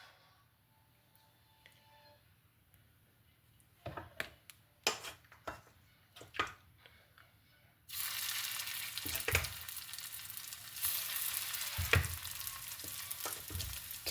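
Chicken pieces go into hot oil in a pan for garlic honey chicken, first with a few sharp clatters and knocks, then a loud, steady sizzle of frying that carries on to the end, with more utensil knocks along the way.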